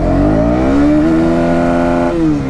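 A KTM Duke 200 motorcycle accelerates hard in first gear, its engine note climbing steadily in a loud, close, continuous rising whine before a brief dip at the shift point.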